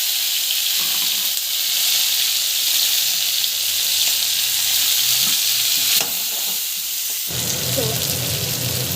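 Chana dal, onion, green chilli and curry leaves sizzle steadily in a pan with a continuous crackling hiss and occasional stirring scrapes. The frying grows lighter near the end.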